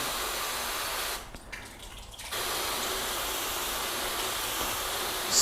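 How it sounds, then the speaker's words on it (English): Water runs from a hose over sealant-coated car paint, producing a continuous broadband hiss and spray that briefly drops out for about a second before resuming at a steady level. "as we leave the water running"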